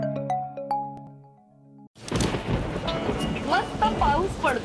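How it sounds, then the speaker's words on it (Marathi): Rain and thunder sound effect from a radio advertisement: a short tonal chime-like jingle gives way to a loud, steady broadband rush of rain with rumbling, filling the second half. "मस्त पाऊस पडतोय."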